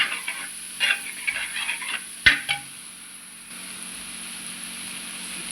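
Food stirred in a pan, faint scraping and sizzling scrapes in short bursts with one sharp clack of the utensil, then a quieter steady hiss.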